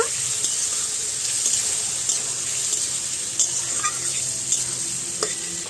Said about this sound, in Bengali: দিয়ে ভালোভাবে কষে নেব